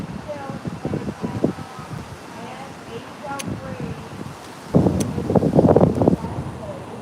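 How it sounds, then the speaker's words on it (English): Gusty wind blows outdoors and buffets the microphone in rough bursts, strongest near the end, while people talk through it. "I can't believe how windy it is."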